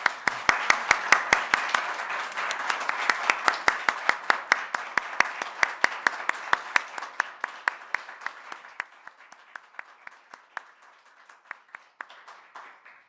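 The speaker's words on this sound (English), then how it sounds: "So can I thank everybody to applaud them now, whether you're at home or in your office," Audience applause at a family law debate, a dense burst of many hands clapping that thins over about thirteen seconds into scattered, fading claps.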